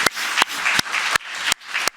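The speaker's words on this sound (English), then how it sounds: "so that we can at least clap" Audience applause at the Arctic Futures awards event in 2022. A dense clapping wash is broken by sharp, regular louder beats, like a few people clapping in rhythm over the crowd.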